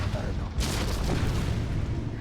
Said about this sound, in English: Those Inferno cannons immediately taking out all of the infantry that were garrisoned and fired the fire bases, and Skippy also using both his nuke cannons